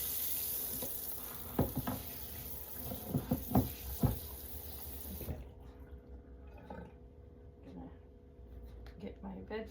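Pumpkins scrubbed with a veggie scrubber under running water, a steady tap hiss with rubbing and splashing that stops about halfway, then quieter handling as a person talks.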